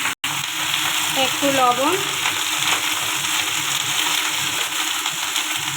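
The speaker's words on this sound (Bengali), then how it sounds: "তেলটা গরম হয়ে গেছে, এবারে ভেন্ডিগুলো ভেজে নেবো।" Okra sizzles steadily in hot oil for okra cooked with mustard, a constant close frying hiss with a short dropout near the start. A brief spoken phrase cuts in partway through.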